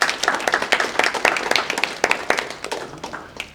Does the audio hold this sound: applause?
yes